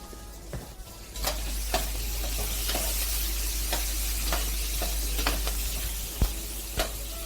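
Saffron and paprika powder sautéing with purée in a paella pan, a steady oily sizzle with intermittent scrapes and taps of a spoon stirring, close and continuous.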